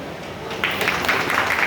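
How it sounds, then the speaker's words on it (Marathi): Audience clapping at a student interaction event, a burst of applause rising suddenly and continuing as a dense, steady patter from a room full of people. "तुम्ही या ठिकाणी टाळ्या वाजवतायत"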